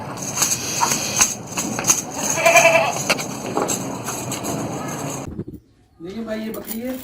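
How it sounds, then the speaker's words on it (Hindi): A Gulabi crossbreed goat bleats repeatedly among other animal and crowd noise at a livestock market, loud and close, with a brief silent gap near the end before more calls. "देखिए भाई ये बकरी है माशाल्लाह, गुलाबी नस्ल में, क्रॉसिंग गुलाबी नस्ल की।"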